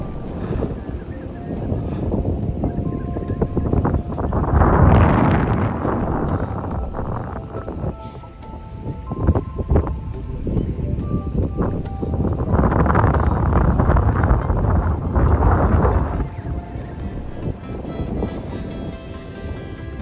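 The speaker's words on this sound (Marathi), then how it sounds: "एवढं जोरात वारं चाललंय ना" Strong wind roars over the microphone throughout a motorcycle ride on a Yezdi Adventure along an off-road route in the Sahyadri hills. The buffeting is loud and continuous and swells in waves, and no voice is heard.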